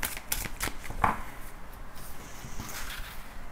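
Tarot cards are shuffled by hand for a reading, giving a run of quick riffling flutters and soft slaps up close, fairly quiet and steady, with no talking.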